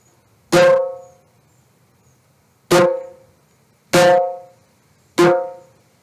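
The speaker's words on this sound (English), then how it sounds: "show us three ways of how to hit the drum to create three different sounds" Four sharp, resonant djembe hits, spaced a second or two apart, each ringing briefly with a bright attack and quick decay, no talking.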